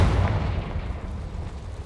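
A Confringo spell explosion in the video game Hogwarts Legacy, a deep booming blast at the start that rolls off into a low rumble over about two seconds.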